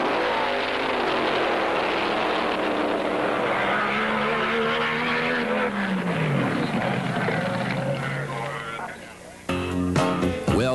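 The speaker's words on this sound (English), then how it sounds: "Don Garlits receives congratulations and then thunders down the quarter mile in a smoky solo run for the Top Fuel gold" Don Garlits' Top Fuel dragster making a smoky solo quarter-mile run at the 1971 NHRA Winternationals in Pomona, California, a loud, dense engine roar that drops its pitch as the car pulls away, then gives way to fainter noise at the end.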